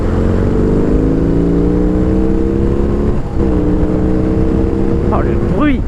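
A BMW R18 motorcycle's big boxer engine pulls hard in third gear around 2000 rpm, a loud, deep, steady drone rising in pitch, with a brief dip midway as it keeps accelerating.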